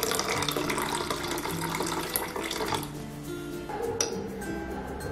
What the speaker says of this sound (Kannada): ನೀರು ಹಾಕೋಣ